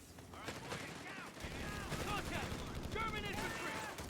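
Machine gun fire and rattling bursts of gunfire in a Company of Heroes 3 battle with US forces, dense and continuous, mixed with other battlefield noise and unit voices throughout.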